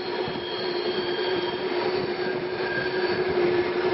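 A train runs on rails toward the terminus at Flåm in Norway, giving a steady rolling roar with a sustained high wheel squeal held throughout.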